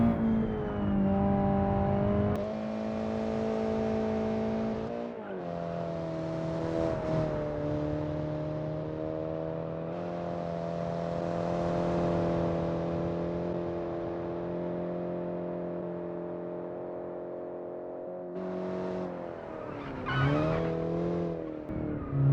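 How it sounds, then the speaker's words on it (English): A small car's engine drones steadily while it drives in the Automation car-building game. The pitch dips sharply at gear shifts near the start and again toward the end, and there is no talk over it. "the car does not feel more powerful than the 750cc version"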